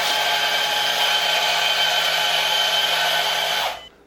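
A Kaiteur electric coffee grinder grinds coffee beans with a loud, steady whirring roar that runs for several seconds, then cuts off abruptly and falls silent.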